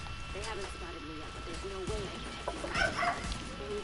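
A dog in the video game The Division 2: Warlords of New York gives a series of short, rising whines and yips, followed by a brief burst of sharper noise, with voices talking alongside.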